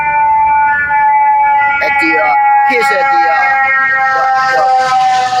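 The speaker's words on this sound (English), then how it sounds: "the ambulance there that will pass by." A passing ambulance siren wails in a loud, steady rising and falling tone close by, and someone talks over it now and then.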